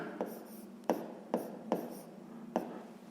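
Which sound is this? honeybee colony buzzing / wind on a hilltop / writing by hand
writing by hand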